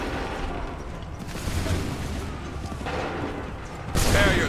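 Musket volleys firing in Assassin's Creed III battle, a dense rumbling barrage of shots building to a louder, sharper burst near the end.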